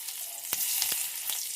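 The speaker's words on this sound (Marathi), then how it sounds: "आता इथे तेल चांगलं कडकडीत गरम करून घ्यायचं. गॅस बंद करायचा आणि आता यात हा बारीक चिरलेला लसूण टाकायचा" Finely chopped garlic hits very hot oil with the gas switched off, giving a steady bright sizzle and crackle with a few sharp pops. It sounds close and continuous, with no voices.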